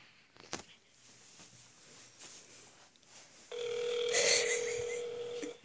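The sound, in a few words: telephone dialing and ringing for a prank call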